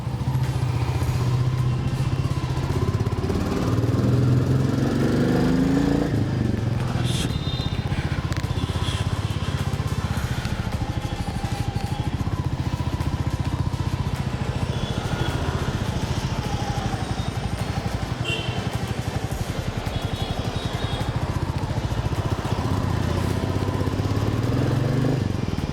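A Royal Enfield Meteor motorcycle engine runs steadily on a Bangalore street, with a loud, continuous low thrum and a few shifts in revs. No one speaks over it.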